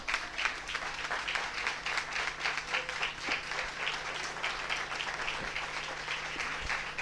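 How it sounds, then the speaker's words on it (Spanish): A church congregation applauding during a Spanish-language sermon, sustained dense clapping filling the whole stretch at a steady level, fairly close and loud with no clear talk over it. "denle fuerte aplauso a Jesús"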